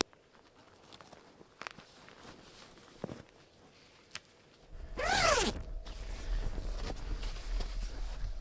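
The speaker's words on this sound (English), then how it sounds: "Zipper going all the way down there." A tent door zipper on a tipi hot tent is drawn down in one quick, close rasp after a few faint taps and rustles, followed by soft fabric handling.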